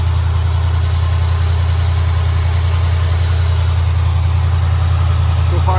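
A Chevrolet big block V8 idles steadily with a deep, even low rumble and constant mechanical hum, loud and close, without interruption.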